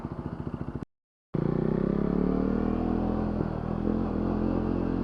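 A motorcycle engine strains in first gear on a year-end ride, a pulsing low growl that cuts out briefly, then returns as a loud, steady drone that slowly rises in pitch, close to the rider.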